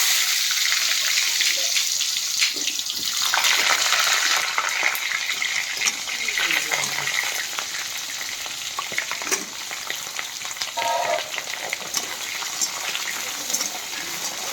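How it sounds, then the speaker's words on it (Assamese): Potatoes fry in hot oil in a pan, a steady broadband sizzle that carries through the whole stretch with small stirring knocks and bubbling, close and fairly loud, no voices. "এতিয়া আলুটো ফ্ৰাই কৰি লৈ ল'ম।"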